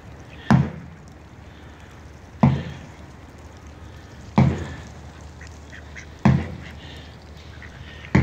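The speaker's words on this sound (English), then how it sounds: "But I'll keep feeding the ducks until there aren't any." Ducks at a pond while being fed, with four loud, evenly spaced sharp calls roughly every two seconds over a steady outdoor background.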